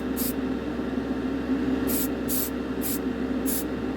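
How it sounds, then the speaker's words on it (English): Five short hissing bursts of an airbrush spraying paint on a diecast Corgi Toys Datsun 240Z, spaced about half a second apart over a low steady hum. "I used to sit down in the chair in the summer with my airbrush"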